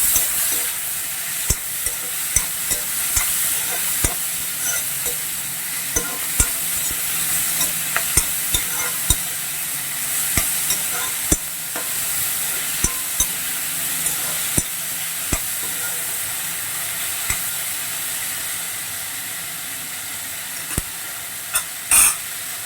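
Chopped onion and tomato frying in a pan for onion samosa filling, stirred steadily by a spoon scraping through a continuous sizzle, with sharp clicks of the utensil against the pan recurring throughout.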